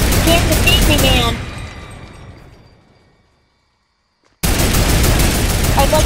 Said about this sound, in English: now you see the mounted turret in action